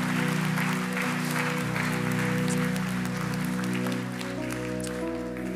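Church congregation at a Sunday service applauding children, steady dense clapping held at full strength for several seconds before easing slightly, over a low constant hum.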